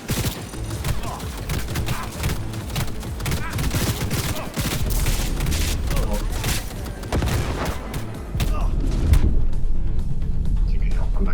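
Rapid bursts of gunfire from the video game Cyberpunk 2077 as the character runs and shoots, dense and continuous with heavy low thumps, growing louder toward the end.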